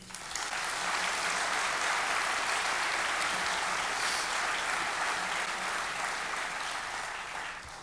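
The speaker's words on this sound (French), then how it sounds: "Merci à eux, merci de les applaudir." Sustained audience applause at a New Year's concert in Marly, a dense, steady wash of clapping from a large crowd that holds loud throughout and tapers only slightly at the end, with no talk over it.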